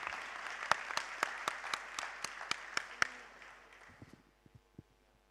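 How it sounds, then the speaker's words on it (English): Audience applause for panelists at a security conference in Timișoara, a room of clapping with a few louder individual claps standing out, then fading to scattered claps. "please join me in the providing a warm round of applause for the panelists"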